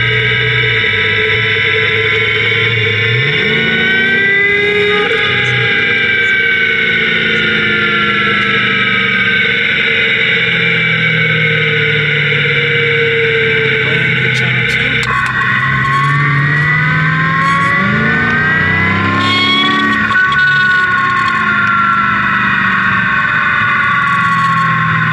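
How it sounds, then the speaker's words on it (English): Passenger-side wheel bearing noise picked up through a Steelman diagnostic tool: a continuous droning whine with steady tones that sweep up and down as speed changes, loud and close throughout with no talk. "Just checking our wheel bearing on our passenger side."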